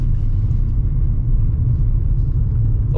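Car driving and overtaking on the road, a heavy low engine and tyre rumble heard from inside the cabin, steady and loud throughout.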